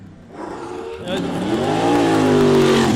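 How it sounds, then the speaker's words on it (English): A pulling truck's engine revs up at a truck pulling competition, the roar climbing in pitch and loudness over a few seconds, close and strong, with a crowd and voices faintly around it. "This truck sounds good."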